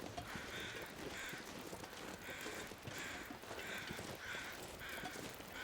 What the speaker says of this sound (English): it sounds like the crows are still there